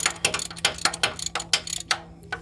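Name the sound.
loosening a bolt on a Yukon AC compressor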